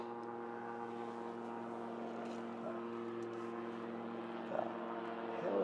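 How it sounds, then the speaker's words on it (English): A helicopter flying over produces a steady droning hum with a constant tone. It is moderately loud and distant, and it holds evenly throughout with no speech. "Gosh darn helicopter flying over."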